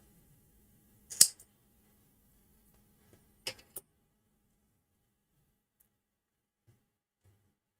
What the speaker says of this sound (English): So I need to cut this one off.